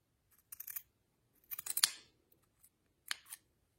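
Scissors snip through paper while cutting out the legs of a monster puppet's body, three separate crisp cuts spaced about a second apart, close and clear with no talk.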